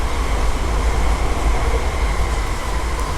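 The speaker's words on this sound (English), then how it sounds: "There is a train next to us." Train passing right beside a moored sailboat, heard as a steady, loud rumbling roar with a low drone and no break, close by and with no talking.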